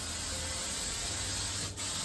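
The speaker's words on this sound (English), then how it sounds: "This is holding spray, or what's it called, hairspray, and I'm going to kind of just spray the top" Steady hiss of hairspray sprayed onto the top of a wig, close and continuous for a couple of seconds with a brief dip near the end.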